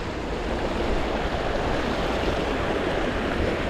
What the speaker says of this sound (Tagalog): malakas po ang agos dito